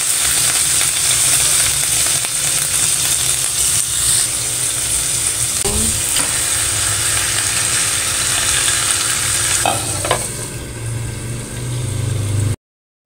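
Garlic, onion, tomato and chili sauté loudly in hot cooking oil, a steady close sizzle with brief stirring clatters partway through and near the end.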